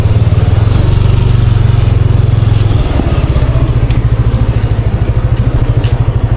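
Motorcycles crowd a road in Merida, Leyte, a loud close engine putter with rapid rhythmic pulsing and clatter that continues throughout.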